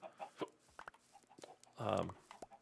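Chickens clucking in the Minecraft video game on a horse farm, with one short, louder burst of game-style clucking standing out among quieter scattered clicks and brief sounds.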